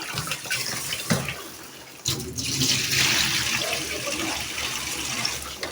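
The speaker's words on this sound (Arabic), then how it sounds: "هنغسل الرز يتغسل كده اهو" Rice being washed in water for a roast duck meal, with splashing and running water that swells after a brief pause and keeps flowing steadily and close up, without talking.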